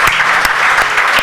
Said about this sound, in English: please do it with all your heart. Come on, put your hands together for all of them.